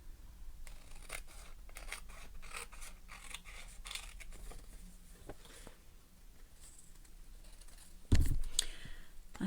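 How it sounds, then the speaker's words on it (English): Scissors trimming patterned paper around an envelope flap during cardmaking, a close series of crisp snips and paper rasps in an uneven rhythm, with a louder rustle of handled paper near the end. "I'll just turn it over and I can trim around very easily"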